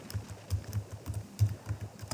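Typing on a computer keyboard while entering an accounting depreciation exercise, a close series of soft, uneven key clicks and thumps in a quick irregular rhythm, with no voices.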